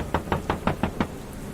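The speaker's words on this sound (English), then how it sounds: "The rain was pouring hard when I suddenly heard a knock on the door." Six quick, evenly spaced knocks on a door ring out as a horror-story sound effect, close and crisp, followed by a brief quiet pause with no talking.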